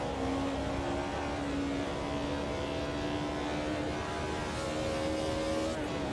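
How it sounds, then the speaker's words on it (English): A BMW M3 racing in the Automobilista 2 sim, its engine holding a steady, raspy high-rev drone with a sustained tonal whine, loud and continuous with no talk. "Love the rasp as it gets up to the high revs of the M3."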